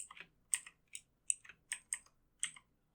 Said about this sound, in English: Hopefully my computer keyboard is not too terrible here.